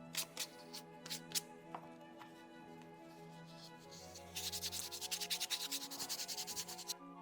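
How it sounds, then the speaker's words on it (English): Hand sanding of charred wooden game pieces for a Korean board game, quiet scattered rubs at first, then a faster run of rhythmic back-and-forth strokes, with no one speaking. "I'm just going to give these a light sanding to try to knock off some of the soot"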